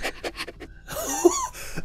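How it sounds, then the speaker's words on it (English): Heavy, close-miked panting breaths from an anime character, loud and breathy, with a short burst of voice before it. "Fucking insane breathing into the microphone there."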